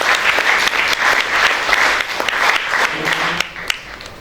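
Audience at a school achievers' ceremony applauds loudly and steadily, a dense wash of many hands clapping that carries on for several seconds with a faint voice near the end.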